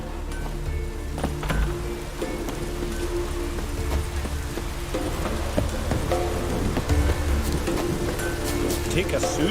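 Steady rain falls in The Witcher 3, a constant hiss of drops beneath layered game ambience and low rumbling tones, continuous and moderately loud throughout.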